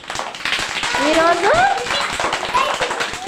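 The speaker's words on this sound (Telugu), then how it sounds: "అందరు గట్టిగా ఒకసారి క్లాప్స్ కొట్టాలి" A group of children claps together at a play session after building a train from blocks. The claps are quick and rapid, close to the listener, and continue under a talking voice.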